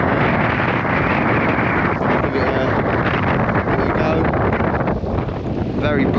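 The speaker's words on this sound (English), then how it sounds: "Very blustery tonight from the west" Blustery west wind outdoors at the coast near a fishing boat, a loud continuous roar of wind buffeting the microphone, with a voice faintly under it.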